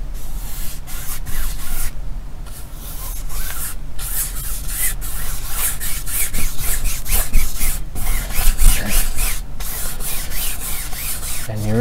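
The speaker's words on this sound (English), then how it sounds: "we're going to cover the canvas in a thin even coat of magic white or liquid white." A brush spreads Bob Ross Liquid White in a thin, even coat over a canvas, making repeated close, dry scrubbing and swishing strokes with short pauses between passes.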